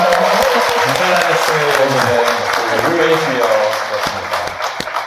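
Audience clapping at a book concert with a Catholic priest, a crowd's applause with sharp individual claps under a close voice speaking over it, fading slightly toward the end.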